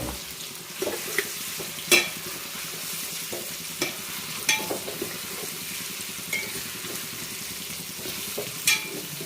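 Mustard seeds, cumin and turmeric tempering in hot oil in a home kitchen, a continuous crackling sizzle with scattered pops and occasional spoon scrapes, close and moderately loud.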